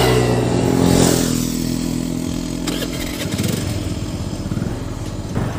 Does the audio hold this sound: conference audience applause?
no